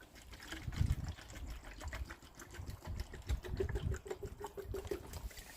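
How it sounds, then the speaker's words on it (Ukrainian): Water mixed with rooting solution runs into a watering can, a steady close splashing trickle with uneven surges for several seconds. "Поливаю набираю в лієчку."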